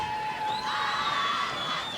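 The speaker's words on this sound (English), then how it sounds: "And East Brunswick crowd trying to rev up the team" Fans in the crowd at a 1989 Group 4 state final girls soccer game, East Brunswick against Westfield, cheer and shout in overtime, a continuous roar with high whoops and screams rising over it, heard from a distance.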